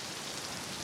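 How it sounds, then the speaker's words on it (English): Rain beginning to fall in a film scene, a brief, even hiss of steady drops with no voices. "now it's starting to rain"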